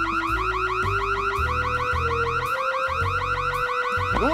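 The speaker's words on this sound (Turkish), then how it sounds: "Alarm işine girdi." A shop's burglar alarm blares at a grocery store, a loud, continuous electronic siren cycling through rapid rising and falling tones with shifting pulses, heard alone without speech.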